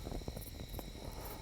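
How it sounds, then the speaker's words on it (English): Crickets and frogs chirp at night around an Ozarks campsite, a dense, steady insect trill with soft scattered calls, faint and continuous. "listening to the crickets and frogs chirp,"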